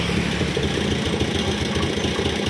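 Honda Scoopy scooter (2021–2024 model) with a bad sputtering fault, its engine running roughly and unevenly at close range, a steady low rumble with irregular knocking pulses throughout.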